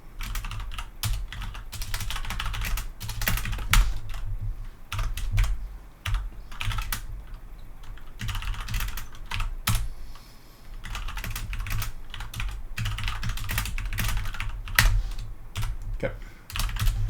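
Rapid, steady clicking of keys on a computer keyboard while code is written, close and continuous with brief pauses, under a low hum of background noise.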